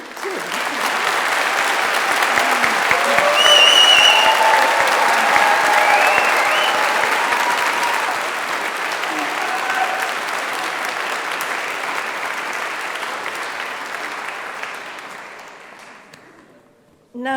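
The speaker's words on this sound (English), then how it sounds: "Round of applause for Tim." A large graduation ceremony audience claps loudly and continuously for around fifteen seconds, with scattered cheers early on before the applause gradually thins and fades out.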